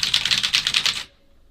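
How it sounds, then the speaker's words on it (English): Rapid clicky keystrokes on a Redragon VATA mechanical keyboard with blue switches, a quick burst of about a dozen crisp, loud clicks close up, ending abruptly. "compared to other blues, is even clickier and louder than some"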